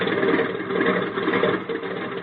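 A small plane's engine drones steadily as the aircraft taxis on the ground, a continuous mid-pitched hum with no voices over it, in an old radio drama.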